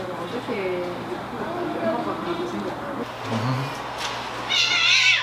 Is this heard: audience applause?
no